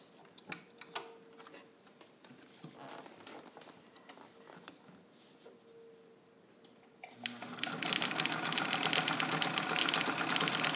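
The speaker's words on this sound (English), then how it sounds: "turn it over so we can see the new stitches that I'm going to be sewing" A restored WWII-era Singer 66 Blackside sewing machine first gives sparse ticks and clicks, then runs steadily with a loud, fast mechanical whir as it stitches through material.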